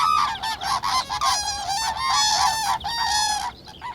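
Young and older cranes call loudly and continuously in harsh, honking trumpets, close by, overlapping in a flock chorus with no talking.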